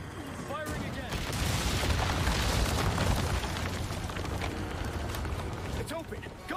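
A cannonball-launching cannon fires in Resident Evil 4 Remake, a heavy booming blast with rumbling explosive debris that sustains for several seconds, loud and dense over game ambience.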